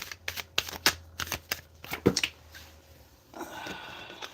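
Tarot cards being shuffled and drawn: a run of quick, crisp riffling snaps and slaps up close, then a softer continuous papery rustle toward the end.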